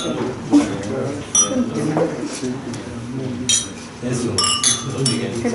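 Glasses clink several times during a toast to the Republic of Colombia at a formal session, sharp bright taps scattered among murmuring voices and a short spoken word.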